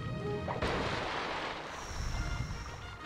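A pirate ship's cannon fires in the Sly 3 video game, one heavy boom with a crashing burst that fades into a rolling wash of sea and wind.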